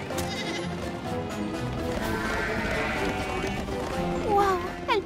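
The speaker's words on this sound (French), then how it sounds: "Tous les moutons sont là." Cartoon sheep bleat in a flock, a faint bed of noise that ends in a few quick, clear bleats near the close, with hoofbeats and some voices mixed in.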